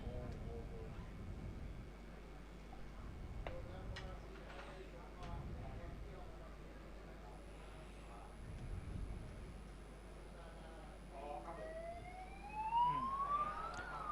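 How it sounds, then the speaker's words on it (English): A stewards' inquiry siren at a Thailand horse racing meeting wails faintly behind a race caller's steady commentary, rising in pitch and loudness toward the end. "Here is the siren signaling an inquiry requested by the stewards."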